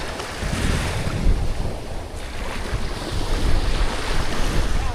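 Sea waves wash steadily against the shore beside a wooden outrigger boat, a continuous close surf roar mixed with wind buffeting the microphone, with no voices.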